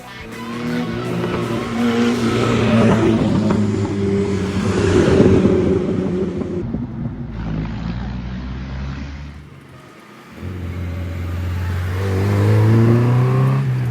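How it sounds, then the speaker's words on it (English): Race car engines roar and rev at the Targa Florio road race in Sicily, loud and close with rising and falling pitch, dipping briefly near the end before surging again. "The roar of engines echoes through Sicilian valleys as drivers commit to the moment."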